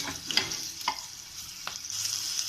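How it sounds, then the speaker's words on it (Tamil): Turmeric powder being stirred into potato masala frying in oil for poori: a few scraping spoon strokes through a steady soft sizzle, close by with no talking. "அடுத்து கொஞ்சம் மஞ்சள் தூள் சேர்க்குறேன். இதையும் நல்லா கிண்டி விட்டுக்கலாம்."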